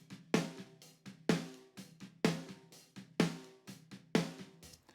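An unprocessed snare drum in a live mix strikes five times at a steady, roughly one-second pulse, each hit loud and close with a short decay and quieter ghost notes between, with no talk.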